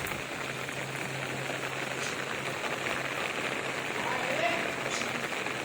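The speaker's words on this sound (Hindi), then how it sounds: "क्योंकि यहाँ हो रही है छमाछम बारिश" Heavy rain falling in Uttarakhand, a dense, continuous hiss of drops pelting surfaces nearby, steady and fairly loud throughout, with a voice talking faintly in the background.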